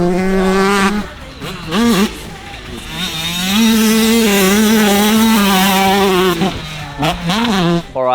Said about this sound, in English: Here comes Sleater for his first timed lap.